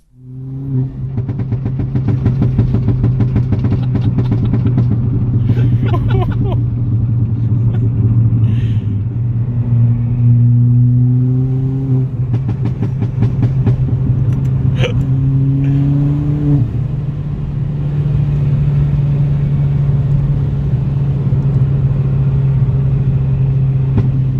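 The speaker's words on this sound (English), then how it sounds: "just a few more sort of the exhaust, a few more pops and bangs" A Ford Fiesta ST MK7 tuned to HP300 by Hendy Performance drones loudly while being driven on a road, with engine revs rising and falling and sharp exhaust pops and crackles breaking through at intervals.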